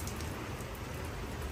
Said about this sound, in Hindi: अचानक बारिश स्टार्ट हो गई